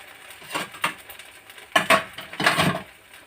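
A metal lid clatters onto a cooking pot in a kitchen, lifted and reset a few times to make it fit: sharp knocks and rattles close by, with no talking.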